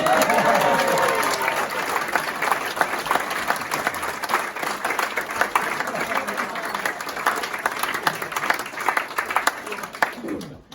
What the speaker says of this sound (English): Give Simon a round of applause.